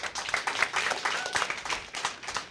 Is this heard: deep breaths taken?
no